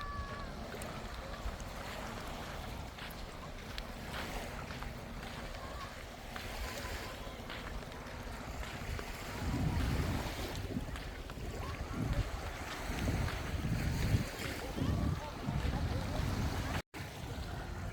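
Wind and waves wash over a beach at Thong Nai Pan Yai on Koh Phangan, Thailand, a soft, steady rumble that swells louder in the second half, with faint voices in the background.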